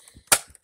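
A Nerf blaster fires once during a Nerf war, a single sharp, close snap with a quick decay and faint soft clicks around it.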